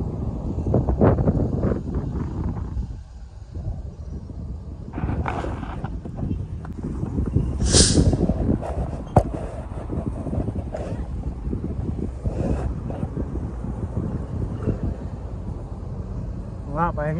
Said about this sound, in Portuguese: O vento tá muito forte, rapaz.